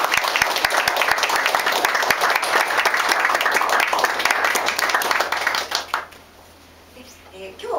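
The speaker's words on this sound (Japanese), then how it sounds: "では最後に皆さん盛大な拍手をお願いします。" An audience at a kimono remake fashion show gives a big round of applause, dense and close clapping that cuts off sharply near the end, then a quiet gap before a voice starts.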